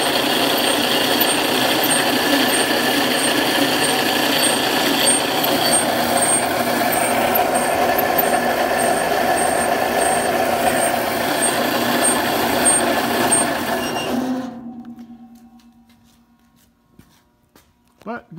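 A rebuilt wine crusher's electric motor runs with a steady, loud mechanical whir and rattle for about fourteen seconds, then spins down and goes quiet, with a few faint clicks afterward.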